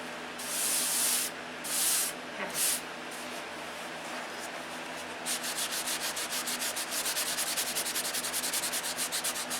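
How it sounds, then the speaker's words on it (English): Hand sanding with 320 grit sandpaper on an aircraft N-number repair: a few loud broad rubbing strokes at first, then a long run of quicker, even back-and-forth scrubbing strokes, close and steady. "So I've sanded it with 320, and I got most of it off."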